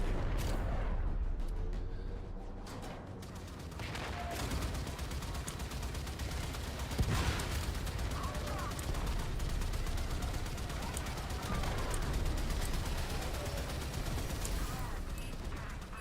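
Railjack ship guns firing in Warframe, a dense, sustained barrage of rapid shots and booms running continuously throughout, with a voice speaking faintly underneath.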